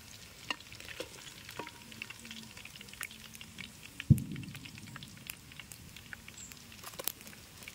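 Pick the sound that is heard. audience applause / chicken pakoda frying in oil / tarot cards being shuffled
chicken pakoda frying in oil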